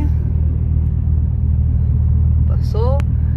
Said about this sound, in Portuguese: Motor de frigo ali passando ali.